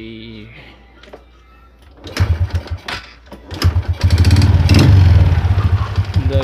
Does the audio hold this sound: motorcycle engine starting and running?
yes